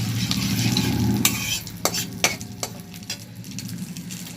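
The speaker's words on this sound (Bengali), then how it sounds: "এবার আমি ফোড়নে দিয়ে দিচ্ছি গোটা তেজপাতা, শুকনো লঙ্কা আর গোটা গোলমরিচ দিয়ে আমি একটুখানি ফোড়নটাকে ভেজে নিচ্ছি" Bay leaves, dried chillies and whole peppercorns fry in butter in a pan, a steady close sizzle with stirring scrapes and a few sharp clinks of utensil against the pan midway.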